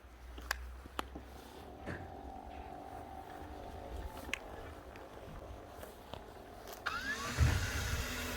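A Mammotion YUKA robotic lawn mower runs as a low, quiet motor hum with faint clicks and light thumps, growing a little louder and busier near the end.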